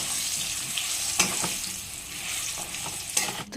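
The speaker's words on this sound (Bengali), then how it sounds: "আলুটা ভাজা হয়ে যাচ্ছে" Potato pieces fry in hot oil with a steady broadband sizzle, broken by a few sharper crackles and stirring scrapes near the pan; no talking.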